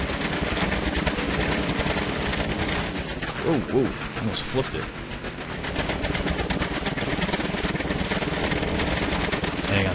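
Engines on a player-built car in the game Scrap Mechanic, a loud, dense, rapid mechanical rattle running continuously, with someone talking briefly partway through.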